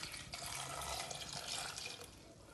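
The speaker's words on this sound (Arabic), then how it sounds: "وغادي ناخذ واحد الكاس ديال الماء وغادي نخويو على هاد القرعه" A glass of water is poured into a plastic bottle while making a hair-moisturising mix, giving a short close splashing, trickling pour with no voices over it.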